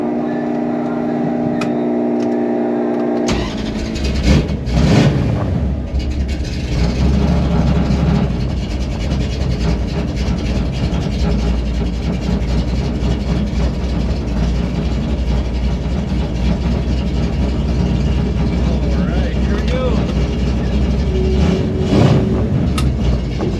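A rebuilt 1968 Plymouth Satellite V8 cranks, catches and settles into a loud, steady rumble, heard up close for a long stretch.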